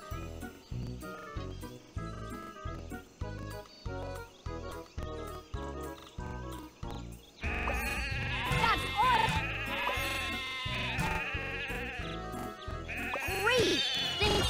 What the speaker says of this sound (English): Just drag the sheep and drop them in their pen.